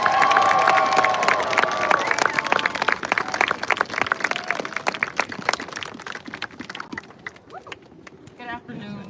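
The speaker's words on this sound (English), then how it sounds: "Y'all give a big round of applause for Christy Caldwell, everybody." A rally audience at the Together We Rise Rally claps and cheers loudly, the applause thinning into scattered claps toward the end, with a voice briefly over the start.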